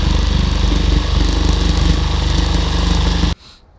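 A jigsaw cuts a hole through a van roof, its loud, close, rapidly pulsing motor buzz running steadily for over three seconds before stopping abruptly, leaving a faint trailing hum.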